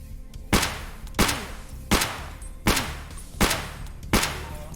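Six evenly spaced, loud, sharp gunshots from a .366 rifle fired at 6B3TM body armor in Escape From Tarkov, each with a short echoing tail.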